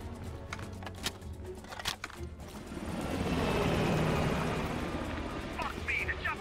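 Helicopter rotor noise from a chopper in the Call of Duty Black Ops Cold War campaign, swelling from the middle of the clip into a broad, loud wash amid game effects, with players shouting over it.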